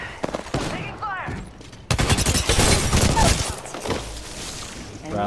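Rapid gunfire from Apex Legends, dense bursts and single shots packed close and loud, with players talking over the shooting throughout.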